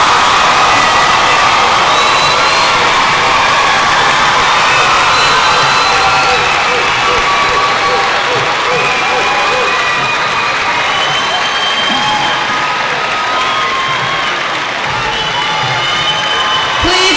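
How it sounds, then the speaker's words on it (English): A large crowd at a James Monroe High School graduation ceremony applauds and cheers the class of 2015, loud continuous clapping, whoops and shouts filling the whole stretch without a pause. "Please join me in applauding the James Monroe High School class of 2015."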